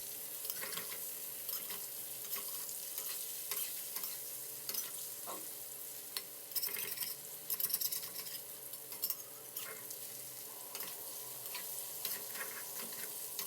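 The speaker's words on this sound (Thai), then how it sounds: "ก็ให้เราทอดเต้าหู้ของเราให้ผิวด้านนอกสุกเหลืองเลยนะครับ" Tofu deep-frying in oil, a continuous bubbling sizzle at moderate level with intermittent clinks and scraping of a utensil in the pan, no speech.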